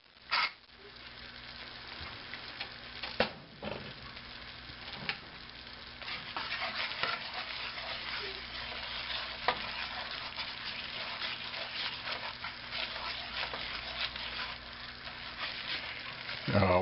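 A white gravy with black pepper, made for creamed beef, is stirred and cooked in a pan. It gives a continuous soft scraping and bubbling hiss, steady and moderately quiet throughout.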